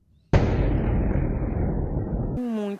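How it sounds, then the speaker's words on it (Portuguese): An LPG gas cylinder explodes with a sudden loud blast that rolls on as a sustained roaring rumble for about two seconds, then cuts off to a brief voice. "Vizinhos ficaram assustados com o barulho da explosão."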